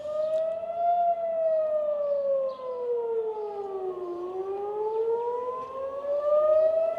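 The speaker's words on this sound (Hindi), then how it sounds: "एक बार फिर से आपको सायरन की आवाज़ मैं यहाँ पर सुनवाता हूँ" An air raid siren in Israel during the Israel-Iran war wails steadily, its pitch sliding slowly down and then back up, loud and continuous with no voices.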